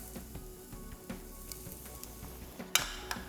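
Garlic sizzling in a hot pan for Malabar prawn curry, a soft steady frying crackle with light stirring taps and a couple of sharper clinks toward the end.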